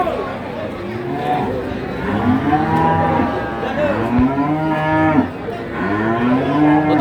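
A young cow moos repeatedly at a livestock market in Tuban, its long harmonic calls loud and close over a steady murmur of crowd chatter.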